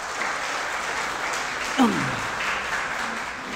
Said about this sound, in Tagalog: Sa muling malakas na palakpak para sa Panginoon.